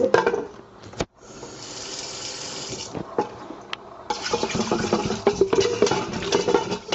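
Pasta is rinsed under a running kitchen tap, the water hissing and splashing steadily up close, with a brief stop and then a louder, busier gush.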